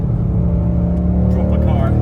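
A Ford Mustang's engine drones low and steady from inside the car while driving, a loud continuous rumble with a faint rise in pitch near the end.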